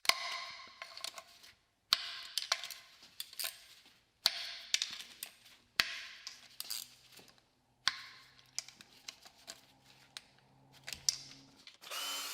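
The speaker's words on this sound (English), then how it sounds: "Use a 10mm socket and systematically loosen each component one after another" A 10mm socket wrench loosening bolts on a VW Passat engine: quiet, close bursts of rapid ratcheting clicks come in regular spurts, separated by brief pauses.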